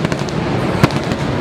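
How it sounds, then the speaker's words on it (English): Fireworks finale at a theme park's Pixar Palace and Hollywood area: a loud crackling wash of bursts with one sharper bang near the middle, dense and continuous throughout. "With the fireworks finale going on."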